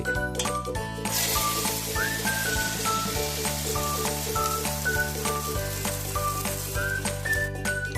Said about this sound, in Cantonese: 咁啊倒勻勻喺個熱油上面，咁而家咧就係煎緊。